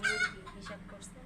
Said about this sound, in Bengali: হ্যাভি সাউন্ড তো ককর ককর মুরগির